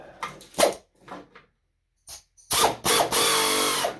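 Hand ratchet wrench clicking in quick bursts while loosening the blower cover bolts on a Tecumseh 5HP snowblower, with short pauses, then a loud, sustained run of rapid ratcheting close up.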